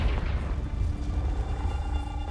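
A Confringo spell blast in the Hogwarts Legacy video game, a dull booming burst with low rumble that lingers under a faint tonal hum, brief and fairly soft.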